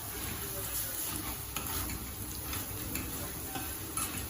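Egusi fries in oil in a pot while being stirred, a continuous soft sizzle with light scraping and ticking of the spoon against the pot.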